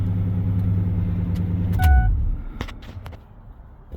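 A fuel-injected pickup truck engine idles with a steady low rumble, then shuts off or drops away midway, leaving a few clicks and faint handling noises.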